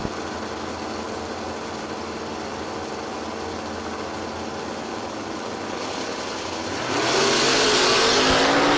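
Super Stock GT Dodge Dakota at a drag race launch, steady loud engine roar at the line swelling sharply into a harder, brighter blast near the end as the truck leaves.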